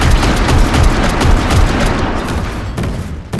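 Missile strike fired from a warship in the naval battle game Warship Mobiles, a loud dense roar of blasts and rumbling explosions that fades slightly toward the end, no speech.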